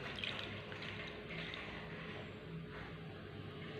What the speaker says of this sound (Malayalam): ഞാനൊരു 1/2 കപ്പ് വെള്ളം ഒഴിച്ചു കൊടുക്കുന്നുണ്ട്.